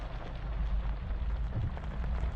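Rain falls steadily as a dense, even hiss with a low rumbling undertone, continuous and fairly close, with no voices.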